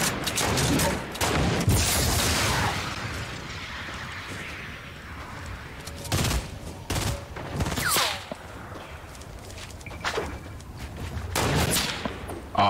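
Rapid gunfire bursts from an online shooter game, aimed at trees, with several loud volleys and sustained fusillades that come and go against a constant roar of background noise.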